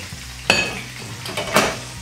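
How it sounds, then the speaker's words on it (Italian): A spoon scrapes and knocks around a pan of baby octopus sizzling in hot oil, with two sharp metallic clacks against the pan over a low, steady frying hiss. "con una cucchiaia stemperiamo un po' in modo tale che si aprano e li facciamo un po' andare"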